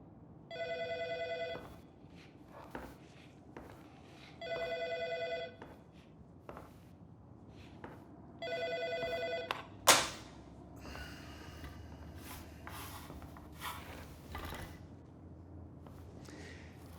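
A telephone rings in three separate electronic bursts a few seconds apart, fairly faint indoors, then a sharp thump and soft rustling noises follow.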